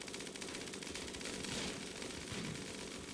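Sustained rapid gunfire volley in the video game Rimworld, a dense continuous stream of shots aimed at a wall, heard faint and compressed for about three seconds with no talk.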